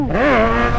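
Kawasaki Z1000 motorcycle engine revs in one short, loud, close burst, its pitch rising and then easing back down.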